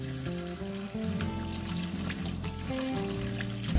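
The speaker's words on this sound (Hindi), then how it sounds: "नमक और सरके के पानी को गिरा दें और साफ़ पानी से अच्छी तरह से धो लें" Raw chicken is rinsed under running tap water in a home kitchen, a steady continuous trickle and splash of water throughout, with faint background music underneath.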